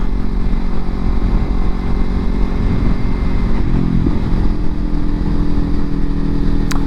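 A Kawasaki Ninja 300 motorcycle engine drones steadily and loudly while riding in Australia, with a brief hitch around a gear shift midway; wind rumble persists throughout.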